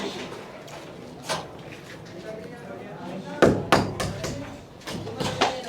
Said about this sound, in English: lots of chipping going on